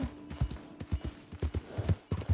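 Horse hooves clip-clop in a brisk, uneven rhythm as a rider travels on horseback in the game Red Dead Redemption 2, close and clear with no talk over them.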